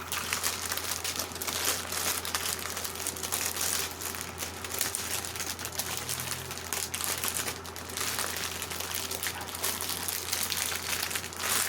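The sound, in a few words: folding plastic bags of diamond painting drills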